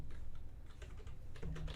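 Steady, rapid clicking of keys on a computer keyboard as code is typed during a lecture, close and continuous, with no talk over it.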